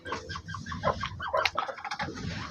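Chickens and a rooster on a farm, several birds clucking close by in quick, overlapping bursts, with no voices.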